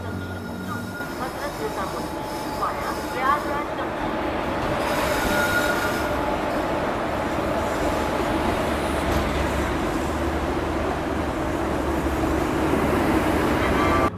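The Patna–Hazrat Nizamuddin AC special, train 04093, hauled by a WG7 locomotive, rolls along with a continuous rumble and wheel squeal that builds slightly, heard up close from on board.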